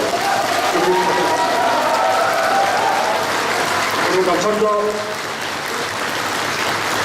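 Audience applause at a book launch event, a dense roar of clapping from a large crowd that stays loud and steady, easing a little toward the end, with a voice briefly speaking over it.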